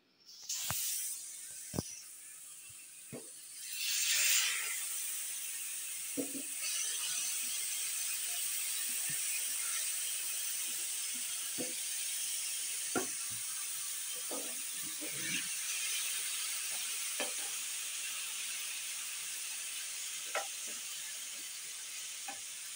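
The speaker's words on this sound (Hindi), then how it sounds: "अब मैं इसे फ्राई कर रही हूँ।" Beef Bihari kababs fry in a pan with a steady soft sizzle, punctuated by occasional clicks and scrapes of stirring and spreading the pieces, close and fairly quiet throughout.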